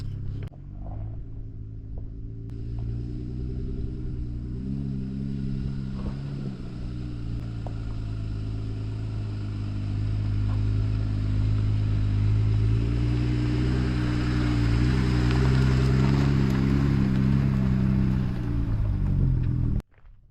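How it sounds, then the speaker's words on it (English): A Jeep grinding up an off-road mountain trail on the Georgia Traverse in freezing winter conditions, its engine giving a steady low rumble that grows slightly louder and busier toward the end before cutting off abruptly. "we're going to drive up here with the Jeep and see what it's all about"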